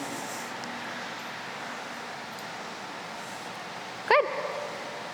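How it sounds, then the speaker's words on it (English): A puppy in a crate lets out one short, sharp bark near the end, with a brief whimpering tail, against a quiet indoor background. "the little bit of barking and everything"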